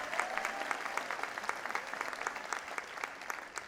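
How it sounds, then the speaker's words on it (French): Audience applause at a university graduation ceremony for engineering schools in Lebanon, a steady wash of many hands clapping that fills the space at moderate distance and stays even throughout. "Ce soir, oui, si vous voulez applaudir,"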